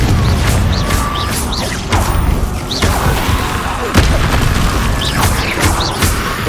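Confringo fire spell blasts in Hogwarts Legacy, loud and dense, with repeated booming bursts and crackling impacts layered over a continuous rumbling game soundscape.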